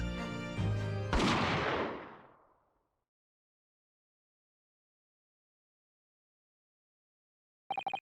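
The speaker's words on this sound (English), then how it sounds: "Jigoku shot Asogi from the shadows." A single sharp gunshot rings out in The Great Ace Attorney 2: Resolve, cutting off background music and echoing away into silence, with a brief burst of game sound near the end.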